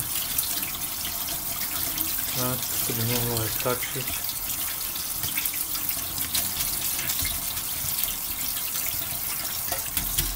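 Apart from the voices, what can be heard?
rinsing cooked spaghetti under cold tap water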